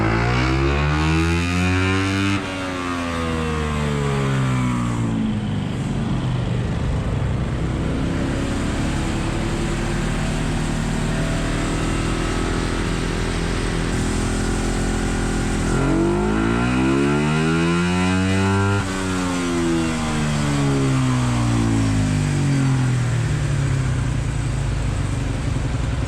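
A motorcycle on a dyno revs hard and repeatedly, its engine tone sweeping up and down through wide rises and falls over a constant loud drone, with no voices heard.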